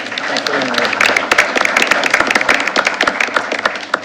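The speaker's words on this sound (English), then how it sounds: "another round of applause for our Seniors of the Month and their families" Applause from the audience at a school board meeting honoring students and their families, a dense steady patter of many hands clapping close by, continuing throughout.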